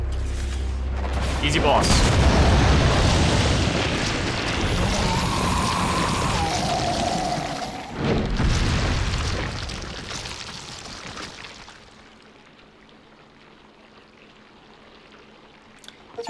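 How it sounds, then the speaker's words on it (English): A rocket launcher fired at a boss in Resident Evil 4, a loud blast and roaring rush of sound that swells early and trails off into a quieter ambience, with someone talking over it. "And now we take the rocket launcher."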